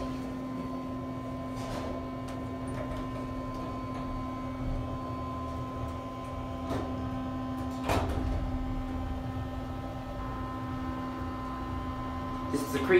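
Hotel elevator at the Creekside Inn in Bishop, California, running with a steady mechanical hum, broken by a few soft clunks and a slow sliding door movement, heard close up with no clear talk.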